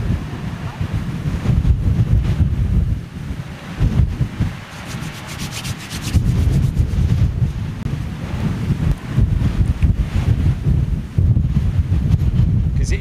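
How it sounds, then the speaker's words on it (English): Brisk headwind buffeting the microphone on an open hill near an airfield at Toulouse, loud gusty rumbling that surges and eases in waves throughout. "a headwind like I've got here blowing in my face"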